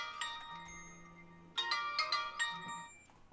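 A phone ringtone sounding during a recorded talk, a bright electronic melody in two bursts, fairly near and clear, with no talk over it.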